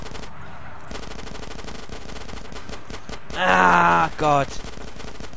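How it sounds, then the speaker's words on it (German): Submachine gun with unlimited ammunition firing in Grand Theft Auto: San Andreas, a continuous rapid rattle of shots, with a man briefly exclaiming partway through. "Ich habe ein verdammtes SMG mit unendlich viel Munition."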